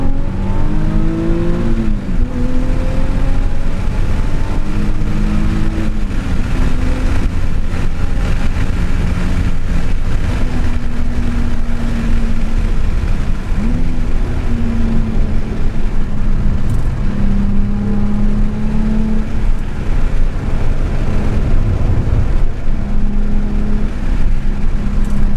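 A race car laps the track at Pacific Raceway, its engine roaring loud and close from the cockpit as revs climb and drop through repeated upshifts and downshifts over a constant rumble of road and wind.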